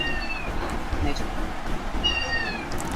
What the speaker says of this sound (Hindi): बिल्ली आ गई भाई, बिल्ली की आवाज़ आ रही है।